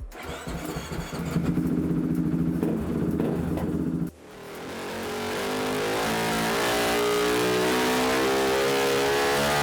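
An engine fitted with an Air Force velocity stack and a 2.5-inch spacer cranks to life after a few seconds of rough idling, then settles into a loud, steady, sustained rev with no talking.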